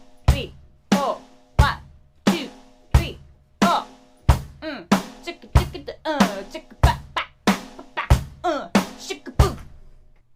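Basic rock drum kit groove with kick on 1 and 3, snare on 2 and 4 and hi-hat on every beat, played steadily and up close for several bars while a voice counts in.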